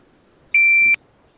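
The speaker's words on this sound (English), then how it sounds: "we'll go ahead and hit our timer" A single steady electronic beep from a shot timer starts a VR handgun drill on a virtual range, lasting under half a second, loud and clean with no talk.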